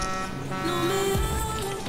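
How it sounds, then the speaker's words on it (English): A car horn honks in the Fortnite video game, a steady tonal blare that holds and bends slightly in pitch over game background noise. "Don't honk at me, rat!"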